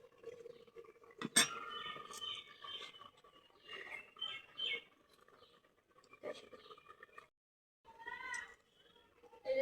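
A pot of finished vegetable curry is lifted off the stove and a wok is set down in its place, producing scattered metallic clanks and clinks, one sharp knock early on, fairly quiet with short gaps.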